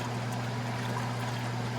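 Water poured into a car engine's cooling system during a Holley fuel-injection wiring job, a steady continuous trickling pour heard alone and close, with a low hum underneath.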